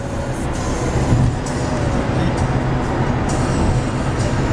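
A steady low rumble of a moving train in Switzerland, continuous and fairly loud, with faint clicks and rattles over a constant rolling drone.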